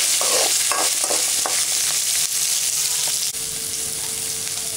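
Onion, chilli and garlic sauté with dal in a pan for a tomato dal chutney. A close, steady sizzle carries scraping stirring strokes that fade after the first few seconds.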